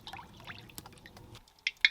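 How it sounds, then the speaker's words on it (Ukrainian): Quiet dripping and trickling of cooking oil poured into a cauldron-style pot, with a few light splashes, ending in two sharper drip sounds. "наливаю олію в казан"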